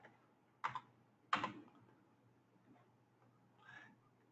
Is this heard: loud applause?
no